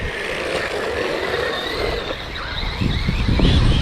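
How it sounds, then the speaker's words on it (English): A 1/16 scale brushless RC truck whines past nearby on a salted, gritty road, its high buzzing pitch shifting as it passes, with road rumble growing louder toward the end. "as I let this car go past"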